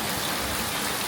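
Steady rain pours down around an open well, a dense, even hiss of drops close by with no pauses.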